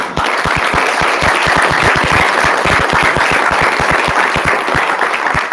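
Loud, steady applause from the audience at a school board meeting, a dense wash of many hands clapping that holds at full strength throughout.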